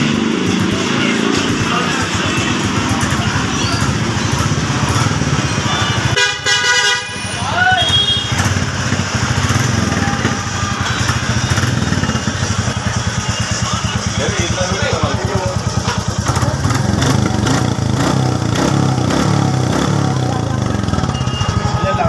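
A 2023 Royal Enfield Bullet Reborn motorcycle engine runs steadily throughout, loud and close, with a horn-like tonal blast partway through and voices talking over the running motor.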